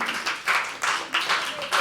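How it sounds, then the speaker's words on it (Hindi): A small audience at a live poetry open mic claps in short, separate bursts of applause, each about a quarter second long, coming at a loose rhythm and heard at moderate loudness. "तालियां मैं बजा दूं?"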